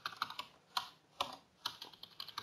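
Someone types quickly on a computer keyboard, close up, with crisp, irregular key clicks and a few louder keystrokes standing out. No one speaks.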